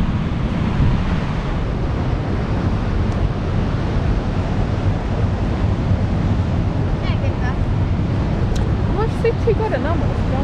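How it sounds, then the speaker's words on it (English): Heavy rushing water roars at Paterson Great Falls, a steady, loud, unbroken wash of noise buffeted by wind, with a few faint voices toward the end. "beautiful waterfall."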